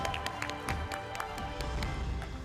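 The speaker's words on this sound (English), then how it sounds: "Give her a round of applause, guys." Audience applause at a corporate awards event for brokers, steady clapping from a sizeable room with scattered louder claps, continuing without speech over it.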